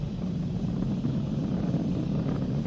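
Falcon 9 rocket with Merlin 1D engines at full power after max Q, a dense steady roar that holds at an even loudness throughout with no voices.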